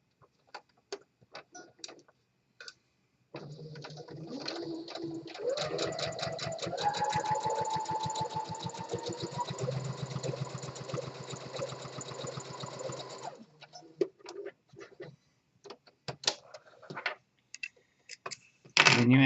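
A sewing machine runs a 5/8 inch seam on fabric test pieces, whirring steadily for about ten seconds with a rapid needle rhythm, close and clear, framed by scattered handling clicks before and after.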